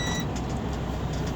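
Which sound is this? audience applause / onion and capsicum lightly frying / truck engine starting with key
truck engine starting with key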